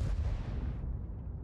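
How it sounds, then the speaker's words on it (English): A single heavy boom from an ISU-152K tank gun in World of Tanks, a deep loud blast that decays into a rumbling tail, with no talking. "Enemy ISU 152K puts a shot into our TVP"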